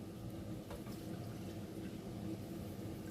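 Cold water poured steadily for coconut milk in a dessert of banana plantain and sweet potato, a continuous liquid splash and trickle, close and moderately loud throughout with no talking.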